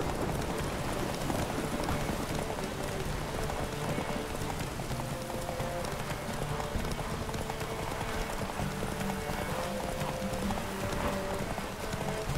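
A saddled horse gallops in The Witcher 3, producing a continuous, fast clip-clop of hooves over a dense, steady game-world ambience with no pauses.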